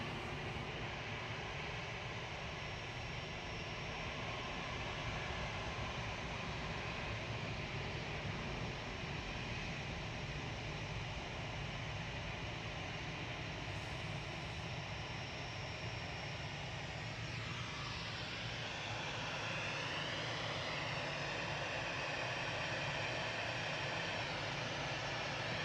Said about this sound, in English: Jet2 lining up from Tango now with flight 875 to Faro. This is GHLYB, one of their A321 classics.